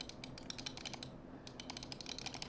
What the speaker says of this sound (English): The clicks are super satisfying,